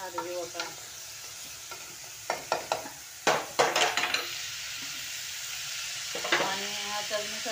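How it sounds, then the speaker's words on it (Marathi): Bottle gourd fries in oil in a pan with a soft sizzle under clusters of spoon scrapes and clinks as it is stirred, close up, with a voice talking briefly at the start and end. "आणि तेलामध्ये चांगला फ्राय होऊन द्यायचा हा दुधी भोपळा."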